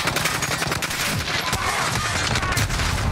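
Dense rapid gunfire fills a shooter video game during sniper play, a continuous loud rattle of overlapping shots with no gaps for three seconds.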